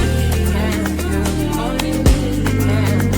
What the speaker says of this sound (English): How big the percussions are